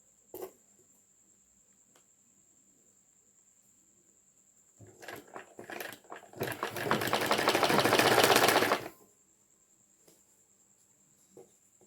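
A sewing machine stitches falls onto a saree in a quiet room, starting with hesitant short runs then building into a steady whirring burst for a few seconds before stopping.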